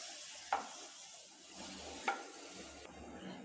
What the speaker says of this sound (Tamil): லைட்டாக இந்த மாதிரி வதக்கி விட்டுக்கோங்க